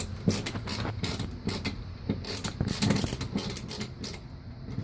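Screws being tightened on a wireless wall switch plate, close-up clicky scraping bursts from a screwdriver in short irregular spurts, no talking.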